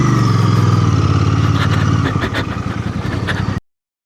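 Bear 650 motorcycle exhaust note, loud and close, a steady idle that shifts into a rougher, pulsing throb before cutting off abruptly, with no talking.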